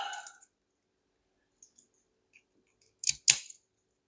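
Keys are handled while a Master Pro Series padlock is gutted. A few faint clicks are followed by a close, sharp double metallic jingle and clack near the end, with silence between.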